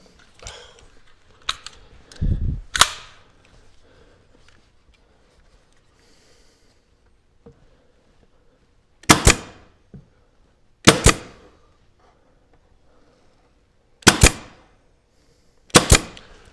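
A headless pin gun nailing crown molding fires four sharp, loud pops spaced a second or two apart, with a few quieter knocks and handling noises before them.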